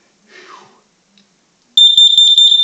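A combined smoke and carbon monoxide alarm under test breaks into loud, rapid, shrill beeping after a short quiet stretch, preceded by a faint brief voice-like sound.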